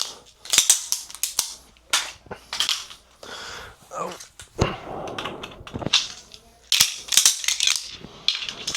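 Pistol shots ring out during a magazine reload drill at a shooting range, a series of sharp, loud cracks, some in quick pairs and clusters, with brief gaps between them.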